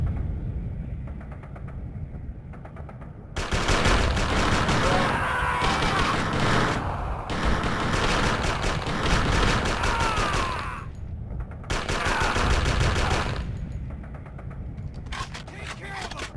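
Heavy video game gunfire in a shooter, with dense sustained bursts and booms filling long stretches, broken by brief lulls, with voices faintly under the din.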